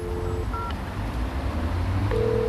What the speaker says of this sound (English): I'll push the 0 button with my finger.